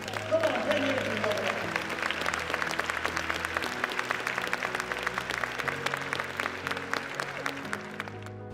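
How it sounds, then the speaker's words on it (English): A motivational-speaking audience claps steadily as a crowd, dense hand claps continuing for several seconds with music-like tones and faint voices mixed underneath. "Give yourselves a round of applause."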